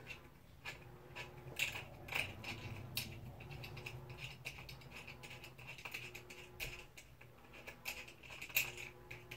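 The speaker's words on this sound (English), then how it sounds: "Using my screwdriver." A screwdriver turned by hand to drive screws while assembling a light fixture: quiet, close ticking and ratcheting clicks in an irregular stream over faint background noise, with no talking.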